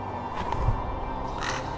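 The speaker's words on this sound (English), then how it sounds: "I like mechanical birds." A mechanical bird in the puzzle adventure game Clockwork Tales caws, a couple of harsh crow-like calls sounding clearly over a quiet game background.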